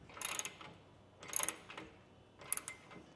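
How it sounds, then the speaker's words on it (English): Three short bursts of clicking from a half-inch socket ratchet tightening bolts on a truck bed rack, each a quick run of sharp metallic ticks, close and fairly quiet. "I can start tightening it down with my half inch socket."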